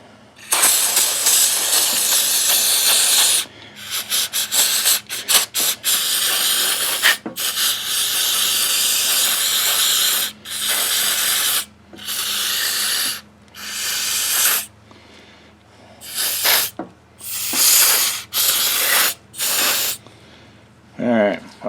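Carburetor and brake parts cleaner hisses from an aerosol can onto a John Deere JS60 push mower carburetor in long, loud bursts, then in shorter, choppier spurts separated by brief silences.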